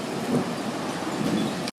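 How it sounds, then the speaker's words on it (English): Hail falling hard during a thunderstorm, a dense, loud, continuous rattle of ice striking surfaces with no talking, cutting off abruptly near the end. "Oh, there's a hail. Here comes the hail."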